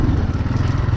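Kawasaki GPX 250 motorcycle engine lugging at low revs in third gear, a loud, steady, rumbling pulse throughout the brief moment.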